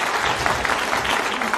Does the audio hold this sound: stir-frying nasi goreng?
no